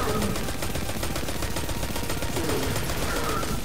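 Rapid pistol gunfire in the shooter Destiny 2: a dense, continuous stream of loud overlapping shots with no pauses, layered over game noise.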